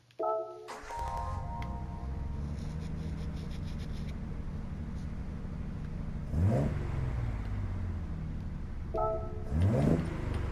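A 1973 Nissan Skyline 2000GT-R (KPGC110) engine in Gran Turismo 7 cranks and fires up, then settles into a steady idle with two brief revs blipping near the end, heard alone and close.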